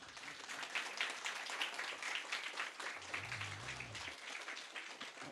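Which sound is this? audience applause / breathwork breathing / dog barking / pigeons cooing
audience applause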